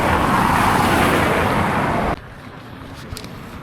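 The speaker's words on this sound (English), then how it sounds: "I don't know if it's really loud for you with all the traffic" Loud, steady roar of road traffic rushing close by in winter Tromsø, Norway, then cutting abruptly to a much quieter background with faint distant sounds.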